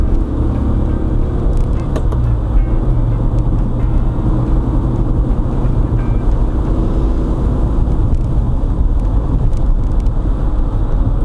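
A 1972 VW Karmann Ghia with a 1600 engine is driven hard, its air-cooled engine droning and rumbling loud and close with steady road noise for the whole stretch, without speech.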